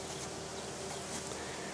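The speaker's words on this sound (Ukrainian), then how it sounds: "Бджоли просто в захваті вже вечір." Steady, continuous buzzing of honeybees in the evening around jasmine, a dense hum with no pauses, moderately distant and fairly quiet throughout.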